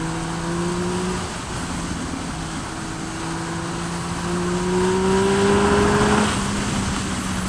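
A 2016 Triumph Speed Triple 1050 R motorcycle pulls hard in third gear, its engine note climbing steadily in pitch over several seconds in a loud, continuous drone.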